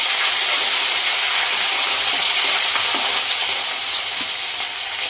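Ginger, green chillies and curry leaves, with bay leaf and cinnamon, sizzle and crackle in hot oil while a Kathiyawadi baby potato curry is started, a loud, continuous frying hiss up close.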